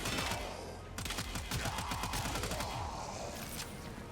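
Tenora rapid-fire weapon in Warframe blasting through enemies, a fast, steady stream of sharp mechanical shots after a brief pause, loud and close over faint combat ambience.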